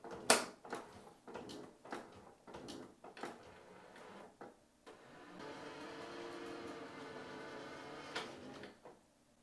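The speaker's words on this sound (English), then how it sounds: "closing the lid." The lid of a Creality Hi Combo filament unit on a 3D printer snaps shut with one sharp click, followed by softer mechanical clacks and a steady motor whir.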